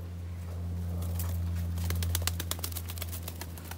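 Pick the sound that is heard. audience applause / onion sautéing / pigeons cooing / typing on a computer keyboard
pigeons cooing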